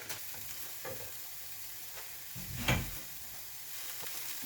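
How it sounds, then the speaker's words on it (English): Frozen peas tipped into a pan of frying mince bring a brief burst of sizzling and clattering midway through a continuous soft sizzle, with stirring scrapes around it and no talk. "I'm also going to throw in a handful of peas, frozen peas, just bung them in"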